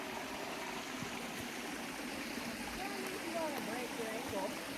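A shallow stream crossed on a hike rushes in a steady, close broadband wash of flowing water, with faint splashes and clunks mixed in.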